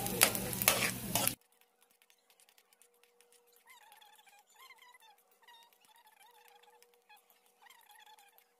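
Garlic sautéing in a pan, with onion to follow, for spicy halang halang na manok: a brief loud burst of sizzling frying, then a sudden drop to near quiet with only a faint thin whine.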